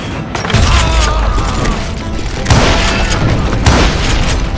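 Loud, dense gunfire from hired guns in a video game battle, with booming bursts and rattling volleys layered over each other and running without a break.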